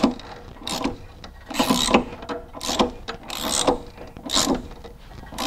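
A ratchet wrench turning a 13/16 socket on a classic VW Beetle pulley, clicking in short, repeated bursts at close range with pauses between strokes.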